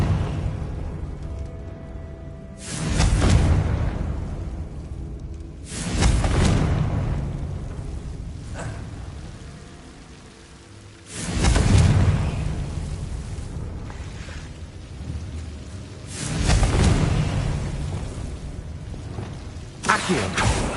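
Repeated Confringo blasting-spell explosions in the Hogwarts Legacy video game, four or five loud booming bursts a few seconds apart, each swelling and slowly fading into a low rumbling background.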